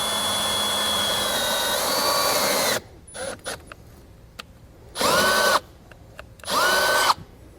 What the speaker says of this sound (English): Now I have it started. Go ahead and finish drilling it out.